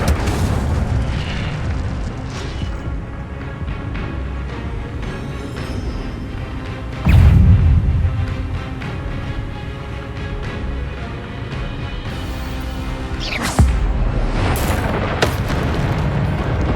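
The Incendio fire spell in Hogwarts Legacy bursts out as booming, explosive blasts over a continuous roaring game soundscape, with one heavy boom in the middle and another sharp burst later.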